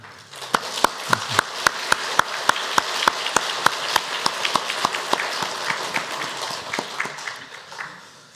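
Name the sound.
applause for the honorary pastor at a church service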